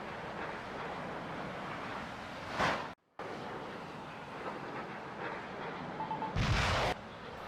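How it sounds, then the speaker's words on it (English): AMRAAM missile launches in a naval war video game, a steady roaring rush broken by sharp launch blasts, a sudden cut to silence, then another loud burst of launch noise. "More AMRAAM are launched."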